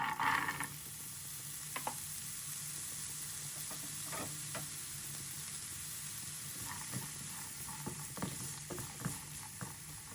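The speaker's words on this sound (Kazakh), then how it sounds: "Табаға 2-3 ас қасық май құйып, сәбізді 4-5 минут қуырып аламыз." Diced carrots fry in a few spoonfuls of oil in a pan, giving a steady close sizzle throughout with occasional sharper crackles and stirring clicks, no voices.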